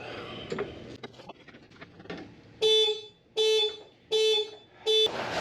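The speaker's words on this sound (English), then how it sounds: "If your car is not unlocked, you will set the car alarm off." A Ford Mustang Mach-E car alarm blares in four loud, evenly spaced electronic honks after a stretch of quieter clicking and handling noises while jacking the car up.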